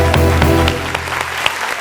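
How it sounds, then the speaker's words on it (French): Audience applause breaks out at a lively Ivorian coupé-décalé show, loud and close, with music and voices running underneath the clapping. "Applaudissez pour Mario."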